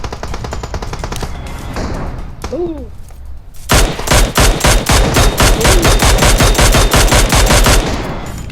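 Gunfire rattles through a PUBG Mobile match, with sparse shots early and then a loud sustained burst of rapid automatic fire, while a voice briefly speaks underneath.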